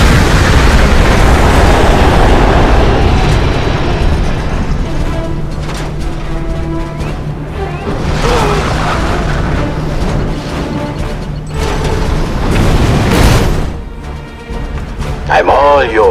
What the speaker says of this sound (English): EMP missiles.